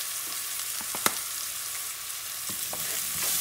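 Ground cumin fries in oil in a pan for Puerto Rican arroz guisado, a close, steady hissing sizzle with a few scraping stirs and one sharp clink of a utensil.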